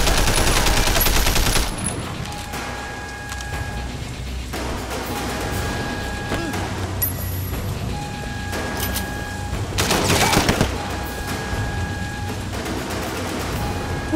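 Bursts of gunfire from the open-world action game Sleeping Dogs, loud and close, with heavy volleys near the start and again around the middle, separated by stretches of steady background game noise.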